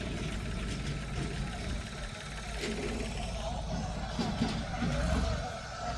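A truck towing a rented dump trailer hauling gravel for a driveway rumbles at a low idle close by, a steady engine drone under faint background sounds.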